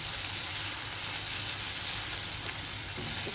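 Dhaba-style chicken bharta masala with ginger and garlic sizzles in a pan over low to medium flame, a steady, close, hissing fry that runs unbroken and loud throughout.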